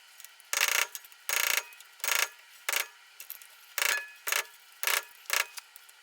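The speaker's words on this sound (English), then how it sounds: "you can start taking the screwdriver and just twisting it to pry the cap out" Screwdriver prying and twisting a wheel hub cap loose on a 2005–2014 Ford Mustang front hub, heard as eight or so short, close, scraping metallic bursts in an irregular rhythm with quiet gaps between.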